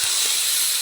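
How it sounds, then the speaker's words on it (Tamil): Mango, drumstick and brinjal sauté in hot oil for a fish curry, giving a steady, loud sizzling hiss with no break over its short span. "இப்போ மாங்காய், முருங்கைக்காய், கத்திரிக்காய் எல்லாமே போட்டு நல்லா எண்ணெயில் வதக்கிக்கலாம்."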